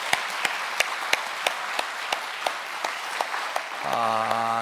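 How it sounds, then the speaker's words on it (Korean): Church congregation applauding the medical and praise mission teams during a Sunday worship service, a sparse, even patter of claps at moderate distance, giving way near the end to a sustained tonal organ or keyboard chord. "우리 격려 박수 한번 해주시기 바랍니다"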